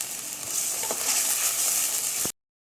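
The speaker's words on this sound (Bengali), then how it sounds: "এবার একটু ভালোভাবে কষিয়ে নিতে হবে।" Spices and rice for tehari sizzle and fry steadily in a pan, a continuous close hiss with faint stirring scrapes, stopping abruptly near the end.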